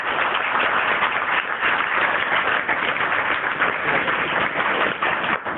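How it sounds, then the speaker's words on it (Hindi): A school audience claps continuously and evenly for about five seconds, a dense, steady wash of applause with no clear breaks and no talking. "आप हमारे इस स्कूल के लिए दिल खोल के तालियाँ बजा दें"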